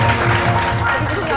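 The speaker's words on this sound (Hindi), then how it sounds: "इसको तालियां।" A television studio audience claps in steady, continuous applause on a talk show, close and loud for the whole moment.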